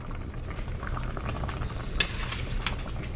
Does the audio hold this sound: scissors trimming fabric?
no